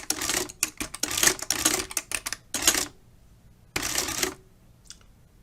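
A desktop printing calculator clatters in rapid mechanical bursts as it prints onto its paper roll while numbers are added, several close, loud runs separated by brief pauses, with no talking.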